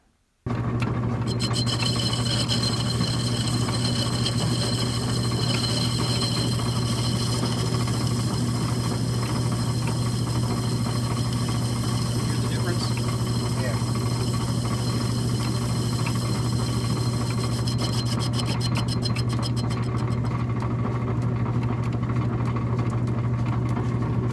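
A metal cutter makes a steady, even final cut pass in a unicycle factory workshop, a continuous grinding mechanical whir with a fine rasping edge that holds for about twenty seconds and then winds down.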